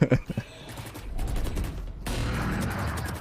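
Rapid gunfire bursts from a Valorant round, a few sharp shots up front followed by sustained dense automatic fire with clattering game effects, loud and continuous.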